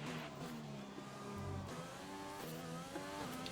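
An F1 race car in the video game F1 2020 on the Azerbaijan circuit accelerates down a long straight, engine pitch climbing through quick gear shifts with a whining, rising tone.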